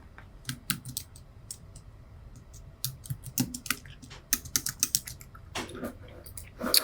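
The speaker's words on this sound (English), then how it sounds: "So I'm going to come in here and type in my name." Close, crisp keystrokes on a computer keyboard as a name is typed in uneven bursts, with a few separate clicks and pauses between groups of taps.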